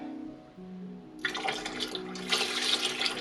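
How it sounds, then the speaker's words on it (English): Lye water for soap making pours into a container in a steady splashing stream that starts after a short quiet lead-in and keeps running to the end, close and fairly loud. "I'm gonna pour our lye water"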